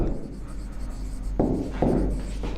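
Equations being written on a board, faint scratchy stroke sounds with a couple of sharper taps partway through, low and close amid a background hum.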